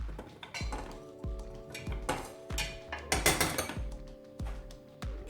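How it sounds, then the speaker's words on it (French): Sliced okra tumbles into a saucepan, giving a series of light clinks and knocks against the metal pan over a few seconds, fairly close and without talk. "Je vais verser les gombos dans une casserole."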